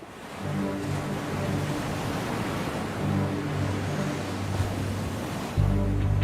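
Ocean surf off Penguin Island in wild, windy weather rolls in steadily, a broad close roar of breaking waves with gusts buffeting the microphone and a louder surge near the end.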